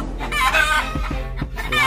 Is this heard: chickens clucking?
yes